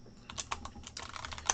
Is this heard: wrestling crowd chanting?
no